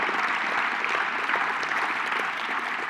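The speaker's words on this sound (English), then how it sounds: "Let's have a round of applause for just the beauty of this space, Defiance College" Steady, close audience applause filling the room at a college anniversary gala, a continuous wash of many hands clapping with no talk.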